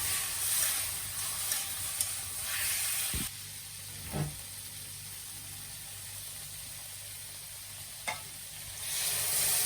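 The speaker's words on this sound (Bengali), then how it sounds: "একটু জল দিয়ে দিলাম মশলাটা কষানো হোক" A spice paste with turmeric sizzles loudly in a hot pan after a splash of water, a steady broad hiss that drops to a quieter simmer midway, with occasional sharp spatters.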